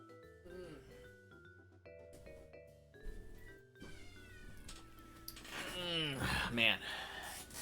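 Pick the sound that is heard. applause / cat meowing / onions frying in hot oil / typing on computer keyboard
cat meowing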